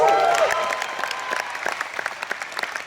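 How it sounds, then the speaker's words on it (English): Audience applause for a man named Pradeep, starting loud under a fading voice and thinning into scattered individual claps. "Everybody give Pradeep a round of applause"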